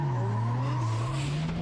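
Tyres of a Toyota 86 drift car with a WiseFab front end squeal loudly and continuously at full angle, a steady howl under a droning engine throughout a drift race run.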